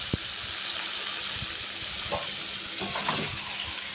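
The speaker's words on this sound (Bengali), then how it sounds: "আবারও আমি মশলার সঙ্গে ওই শাকগুলোকে কষিয়ে নিই" Colocasia greens being sautéed with spices in a pan give a soft, even sizzle, broken by a few light clinks and scrapes of stirring.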